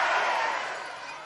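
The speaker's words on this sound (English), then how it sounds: "Listen to the crowd." Crowd roaring at a 1977 Jeux Sans Frontieres game in Ludwigsburg, Germany: a dense, steady wash of cheering that fades slightly over a bit more than a second.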